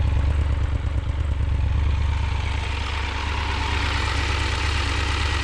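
A Triumph Tiger 1200 motorcycle sits idling, its exhaust putting out a steady, throaty low rumble with a fine mechanical clatter on top, continuous and fairly close.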